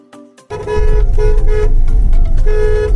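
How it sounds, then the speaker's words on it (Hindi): A car horn blares loudly and close, in a couple of sustained honks over a running engine, after a brief softer toot at the start. "ज़्यादा हॉर्न नहीं बजाते"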